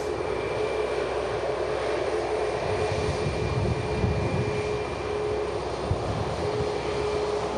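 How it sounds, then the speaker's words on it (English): A wide-body jet airliner taxis at Manchester Airport, a steady engine roar and whine that stays moderately distant and continuous throughout, without speech. "Nicely timed as this beautiful wide body taxis out."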